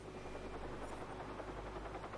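A helicopter in the video game Watch Dogs drones with a steady, continuous rotor chop, fairly loud and constant throughout with no pauses.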